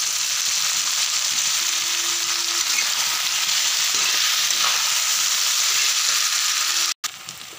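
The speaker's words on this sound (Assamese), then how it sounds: "মাংস আৰু পিঁয়াজখিনি একদম ধুনীয়াকৈ ৰঙাকৈ ভাজ খোৱা।" Mutton pieces with onions and a few small cut potatoes frying in a pan for curry, a steady close sizzle running throughout with a brief cut near the end.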